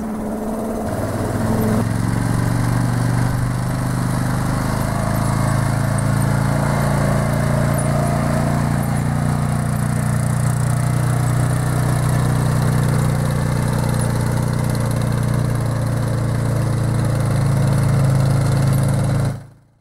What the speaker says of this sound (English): Now we're just going to give them a little bit of wind with the leaf blower